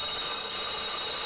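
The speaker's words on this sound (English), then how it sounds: "that is the sound of a drill bit not cutting because the steel is hard" A drill bit spins against hardened Damascus steel in a forging workshop without cutting, giving a continuous, loud, harsh grinding whine that holds steady throughout.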